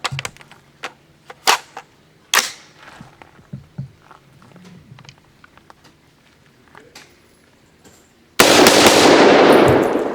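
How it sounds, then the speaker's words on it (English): A S&W M&P 10 rifle fires three sharp, separated shots, the cracks spaced a second or so apart with quieter clicks and handling in between, followed by a sudden loud, steady broadband noise at the end. "We're going to fire 3 shots, see if the bolt locks open and if the mag drops free."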